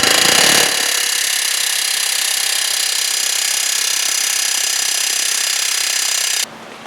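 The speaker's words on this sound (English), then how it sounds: "I used the air hammer over here to pop it out" A pneumatic air hammer blasts steadily and loudly hammering out a bolt on a Ford Focus rear trailing arm, a harsh rapid rattling that runs nearly seven seconds before stopping abruptly.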